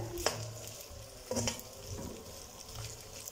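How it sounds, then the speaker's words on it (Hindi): Okra frying in oil in a kadai gives a soft, steady sizzle, with a few clinks and scrapes as the pieces are stirred. "अच्छी तरह से फ्राई हो रही है।"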